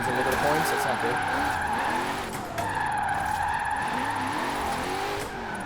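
A 1970 Buick GSX Stage 1 on street tires slides in the Forza Horizon 4 video game, giving loud, sustained tire squeals and skidding over a droning engine, with someone talking throughout.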